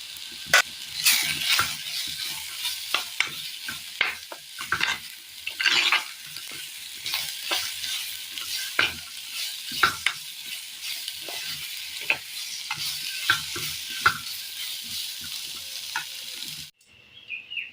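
Raw banana for Kerala-style mezhukkupuratti stir-fries with salt in a pan, a constant sizzle broken by frequent sharp scrapes and taps of a spoon against the pan, close and fairly loud.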